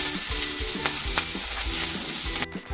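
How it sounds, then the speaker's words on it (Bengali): Onion frying in oil with five-spice in a home kitchen, a continuous crackling sizzle with a spatula stirring and knocking against the pan at regular intervals, close and loud. "এবার পেঁয়াজটা ভেজে নেবো।"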